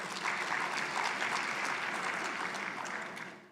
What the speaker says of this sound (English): A big round of applause for Prof.